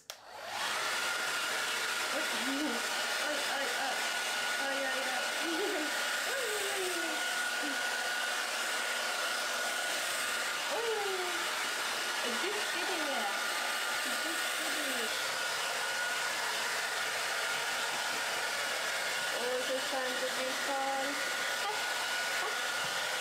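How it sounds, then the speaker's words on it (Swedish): A hair dryer blows loudly and steadily, a constant airy roar that runs without a break, with faint squeaky sounds rising now and then underneath. "Och nu ska vi köra gång nummer tre på hårtorken"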